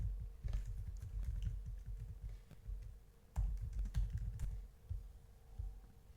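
Steady typing on a computer keyboard, with clustered key presses and a few sharper clacks, close and fairly quiet, with no talk over it.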